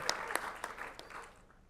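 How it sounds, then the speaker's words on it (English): Scattered clapping from a small audience, a few sharp claps standing out before the applause thins and fades within two seconds. "Let's give her a round of applause."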